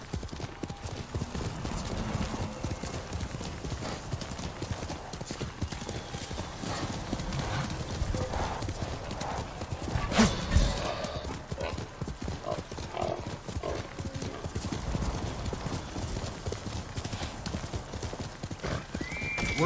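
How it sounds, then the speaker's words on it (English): Steady rhythmic hoofbeats of a horse galloping continuously in Ghost of Tsushima, with a brief whinny partway through and faint ambient background throughout. "good horse, Nobu"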